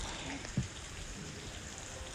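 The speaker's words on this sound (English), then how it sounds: "All the times to go to the store, you have to pick in the middle of a torrential downpour." A torrential downpour of rain gives a dense, even hiss of water pouring onto the ground, steady and moderately loud throughout with one brief low thump near the start.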